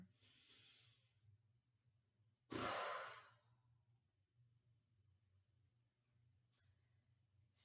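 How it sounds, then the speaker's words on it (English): One deep breath during a gentle yoga session: a faint, airy inhale, then a close, loud exhale lasting about half a second, followed by quiet room tone. "Take one big inhale. Exhale."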